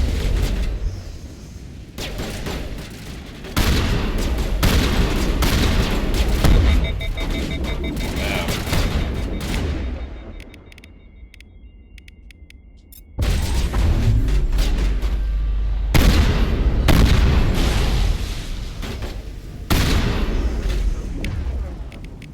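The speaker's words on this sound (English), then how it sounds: "Shotgun blast to the face." Shotgun blasts and gunfire in the video game Mass Effect Legendary Edition, dense booming bursts of shots filling most of the stretch, with a brief quieter lull in the middle before the heavy firing resumes.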